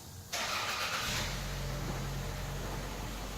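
A 2011 Mustang GT engine with long tube headers cranks and catches, then settles into a raspy, rumbling idle nearby, loud and steady with no voices.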